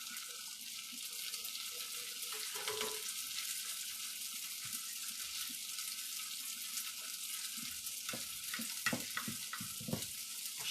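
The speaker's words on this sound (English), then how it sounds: "I'm just going to throw some of my little pastas in here with my butter." Gnocchi frying in butter in a small pan, a quiet continuous sizzle with soft clicks and scrapes of stirring toward the end, no talking.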